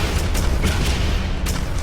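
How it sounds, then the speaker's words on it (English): Grenade blasts in a fast arena shooter duel, a dense run of booming explosions layered over one another with sharp bursts at roughly even intervals, loud and close. "now I'm covering this teleporter with the nades"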